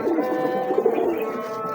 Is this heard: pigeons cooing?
yes